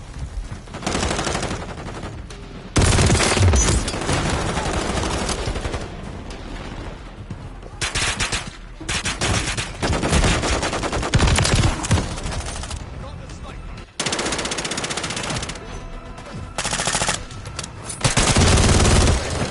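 Video-game gunfire with rapid automatic bursts and shots repeating through most of the stretch, loud and dense, with brief pauses and voices of players talking over it.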